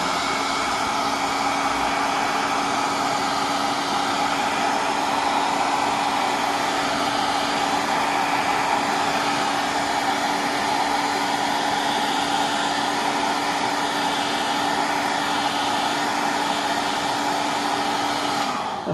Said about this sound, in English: now what we need to do is to shrink it down with our heat gun here